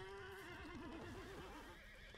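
A horse in the medieval battle game Bannerlord lets out a clear, loud whinny with a quavering, wavering pitch, close up, over faint background battle noise.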